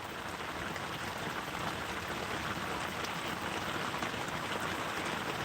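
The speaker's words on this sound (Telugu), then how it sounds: "వర్షం అయితే వస్తూ ఉంది" Steady rain falling in Rayalaseema, a continuous soft hiss of drops on surfaces with no pauses or voices.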